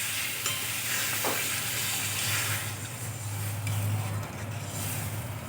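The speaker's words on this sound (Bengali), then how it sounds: "এখন আমি জল দিয়ে দেবো।" Potato masala frying in a pan for an egg omelet curry, a steady close sizzle and hiss as water goes in, with occasional stirring scrapes and a low background hum.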